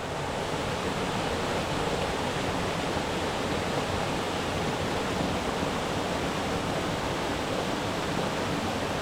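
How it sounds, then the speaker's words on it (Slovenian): Waterfall on the Poličanka stream in a rocky gorge, a steady, loud, dense roar of falling water filling the whole clip with no voices. "najlepši pa najvišji slap na potoku Poličanka"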